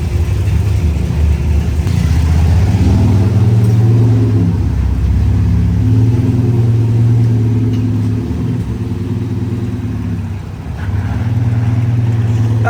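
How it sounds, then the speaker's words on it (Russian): A UAZ Hunter being prepared for racing runs its engine steadily and loudly, a deep continuous rumble that holds high throughout with a brief dip near the end, no talking. "Сейчас проверяем максимальные обороты."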